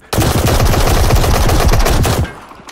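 Rapid automatic gunfire in the video game Escape from Tarkov, a loud continuous burst of close shots lasting about two seconds before cutting off into faint room tone.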